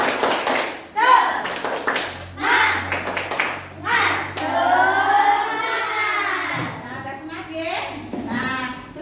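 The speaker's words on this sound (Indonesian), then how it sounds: "Yuk tepuk semangat." A group of children in an Indonesian school classroom performs the 'tepuk semangat' chant, with sharp rhythmic bursts of clapping mixed with loud, lively group chanting and voices.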